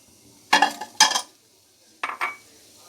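A spoon stirs milk into Kashmiri pink tea in a cup, giving two quick pairs of close, clinking scrapes against the cup, separated by a short silence.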